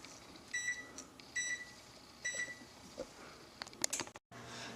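A kitchen oven gives a few short electronic beeps while being set to preheat to 350, separated by pauses, with faint handling clicks in a quiet room.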